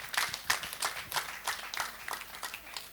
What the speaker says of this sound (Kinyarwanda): Mukomere Imana amashyi.